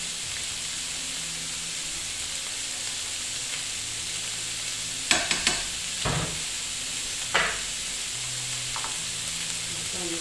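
Four garlic cloves frying in a pan with oil, a soft steady sizzle throughout, with a few brief clinks and stirring sounds partway through.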